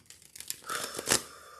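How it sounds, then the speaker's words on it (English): Hermes Master Alchemist tarot cards being shuffled by hand, a quick crisp riffle of papery flutters and slaps building to a brighter burst, close and alone. "starting with shuffling my cards"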